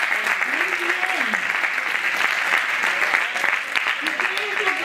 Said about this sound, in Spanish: Ramón, un aplauso.